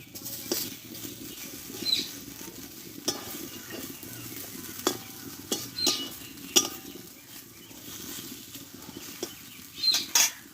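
Eggplant slices fry without oil in a covered pan, giving a faint, low sizzle with scattered clinks and scrapes of a utensil and lid handling close by; no talk.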